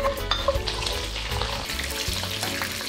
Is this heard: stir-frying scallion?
yes